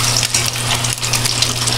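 Boiled eggs frying in plenty of oil for adobo, a close, continuous crackling sizzle with a steady spitting texture and no voices.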